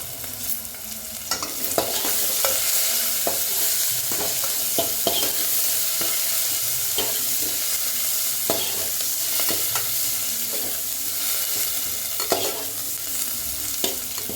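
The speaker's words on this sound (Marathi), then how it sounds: "कांदा घालून घ्यायचा आहे, परतून घेऊया" Onion sautés in a pan with cloves, cinnamon and other whole spices, a constant loud sizzle punctuated by frequent rhythmic scrapes and taps of a spatula stirring through the pan.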